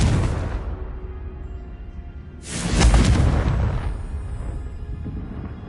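A Confringo fire-blast spell bursts in Hogwarts Legacy, a loud booming explosion erupting midway after a low rumbling start and then fading into a lingering roar.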